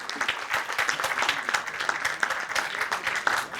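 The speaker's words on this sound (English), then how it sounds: "With a round of applause, let's begin with the Finance Conclave of Samavesh" An audience at a finance conclave, the Samavesh 2023 fintech event, breaks into sustained applause, a dense steady wash of clapping from many hands throughout.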